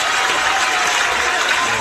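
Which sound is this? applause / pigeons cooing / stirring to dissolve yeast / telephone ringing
applause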